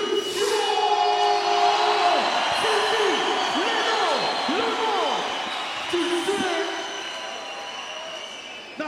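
A crowd at a beatboxing battle backstage at BOTY France 2010 roars and cheers for a clap-o-meter, loud and sustained, with shouts, whistles and scattered calls rising over the din, easing slightly toward the end.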